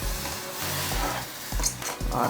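A tempering of spices hitting hot tamarind stew sizzles loudly, with a few sharp bursts of crackle and spatter over a steady frying hiss, no voices.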